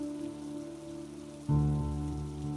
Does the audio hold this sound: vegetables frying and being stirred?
no